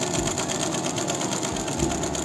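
A sewing machine stitches a dart on a blouse, a fast, even mechanical whirr with regular needle clatter, close and continuous throughout.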